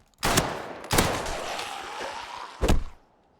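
A gun fires in the gritty, modded Fallout 4 game: three heavy, loud blasts with rolling sustained noise between them, close and alone.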